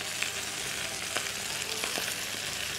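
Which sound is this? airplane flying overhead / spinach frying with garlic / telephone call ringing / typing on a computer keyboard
spinach frying with garlic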